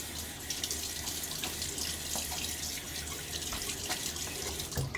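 A tap runs in a bathroom sink while a safety razor is rinsed after a wet shave, a steady close splashing stream with small clinks and drips over about five seconds.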